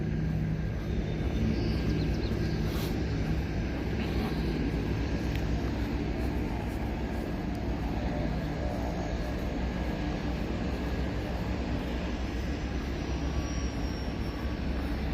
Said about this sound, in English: cool little seaplanes for sure.